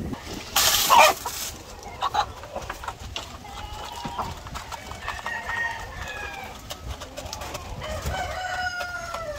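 A flock of mature Black Australorp chickens clucks steadily while a rooster crows, with repeated drawn-out calls over ongoing low farmyard chatter.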